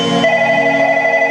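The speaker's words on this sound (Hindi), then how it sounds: "फोन की घंटी बजावा" A telephone bell ringtone sounds at a Bhojpuri stage show during a birthday celebration, a steady, loud, tonal ringing that continues through the whole short moment without speech.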